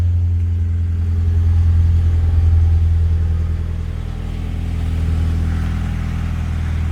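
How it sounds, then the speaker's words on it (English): A car engine runs at a steady idle, a low continuous rumble with a slight rise and fall in pitch, close by and with no voices. "let's just put the key in the ignition"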